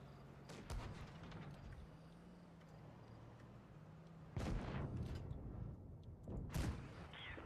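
Tank gun fire in a tank video game featuring the Helsing and T-44-100, a few sharp booming shots cutting over a low engine rumble, two strong blasts near the middle and end.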